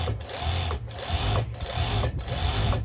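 A sewing machine runs steadily while hemming the edge of lycra fabric, a close, loud rhythmic whirring and needle chatter that pulses about once every half second.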